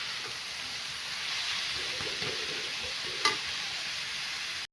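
Coriander leaves being stirred into sizzling cabbage in a pan, a steady close frying hiss with soft stirring scrapes and one brief clink, no voices.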